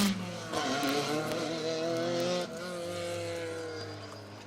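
A rally car with an exhaust issue drones loudly and steadily at high revs on an asphalt rally stage, its tone shifting slightly as it drives along, with a brief change partway through.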